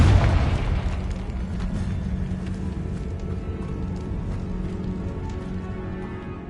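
A Confringo fire spell from the Hogwarts Legacy video game blasts with a loud boom at the start, then rumbling and crackling debris decay steadily over several seconds.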